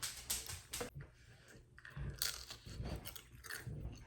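Crisp crunching bites and chewing of an air-fried crab rangoon, several sharp crunches close to the mic, with no talking.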